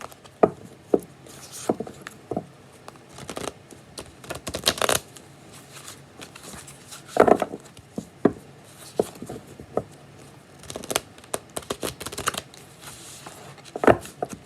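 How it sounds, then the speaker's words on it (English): Riffling and shuffling of a large tarot deck, repeated flurries of crisp flicks and taps, close by, with brief pauses between shuffles. "This is a really big deck, so it's hard to shuffle."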